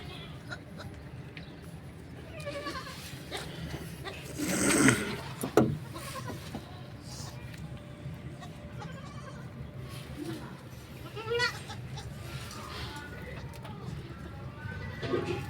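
A healthy Nagri goat that has recently given birth to kids, giving a couple of short bleats amid other low animal sounds, with people talking intermittently through the scene.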